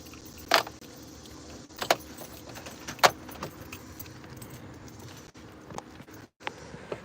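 A bunch of keys jangles in a few separate shakes, each a short metallic rattle, clear and close, with quieter handling noise and faint background rumble between them.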